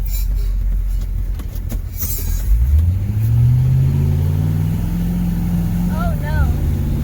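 An M1028 CUCV truck engine revs and climbs in pitch as it strains for traction in snow on a steep, snowy road, a loud, sustained drone that rises and holds.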